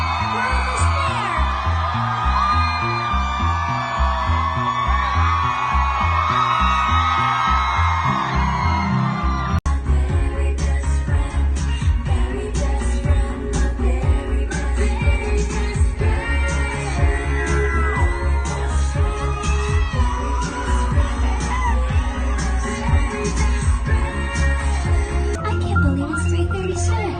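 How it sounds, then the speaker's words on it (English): A concert crowd in Toronto screams and whoops loudly over pounding live music, the cheering sustained throughout and blended into the band's sound. "Everybody scream."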